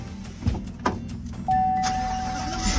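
A car door thuds and clicks twice, then the engine cranks and catches, settling into a steady idle hum with a faint whine, close by inside or beside the car.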